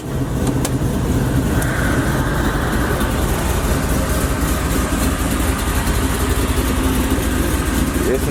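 A supercharged Oldsmobile Cutlass engine idles steadily up close, a continuous loud rumble with no breaks throughout.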